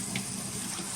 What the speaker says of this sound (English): Cold tap water again.